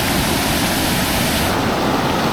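A small waterfall roars steadily nearby, a constant broadband rush of falling water with no voices.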